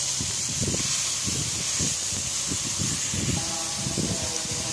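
Tomatoes and green chillies sizzle in a frying pan with a steady bright hiss, a continuous close crackle that stays fairly even, without pauses, through the short stretch.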